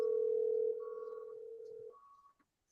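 A phone gives off a steady electronic tone that holds, then shifts pitch and fades out over a couple of seconds in an otherwise quiet room, no talking.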